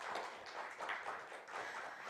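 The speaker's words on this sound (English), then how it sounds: "Let's give him a big round of applause again" Applause for a keynote speaker at an AI summit closing ceremony, a faint, thin patter of clapping from a modest crowd, brief and distant.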